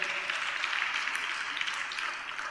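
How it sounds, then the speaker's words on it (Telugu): Congregation clapping together loudly and steadily at a church worship service, a dense continuous patter of many hands held for a couple of seconds with no talk over it. "చప్పట్లు కొడదాం అందరం గట్టిగా"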